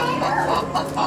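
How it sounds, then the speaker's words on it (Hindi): A chicken sound effect played back in a sensory room: a few short, moderately loud clucks in quick uneven succession, over a faint room background. "हाँ बर्ड है, लेकिन बर्ड में चिकन है ये।"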